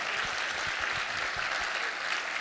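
A church congregation claps in a dense, steady burst, many hands applauding together with a few rhythmic low thumps underneath.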